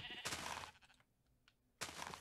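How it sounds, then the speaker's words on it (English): Sheep bleat in a video game, two loud bursts of bleating separated by a quieter gap with a few faint clicks and game noises. "let's kill some of these sheep."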